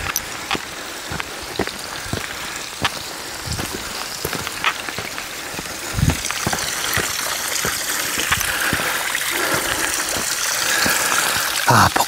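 A mountain stream rushes beside a hiking trail near a waterfall and a hermitage, a loud steady wash with scattered splashes throughout, growing fuller toward the end.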